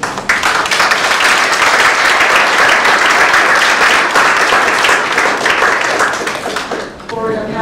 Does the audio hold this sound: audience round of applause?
yes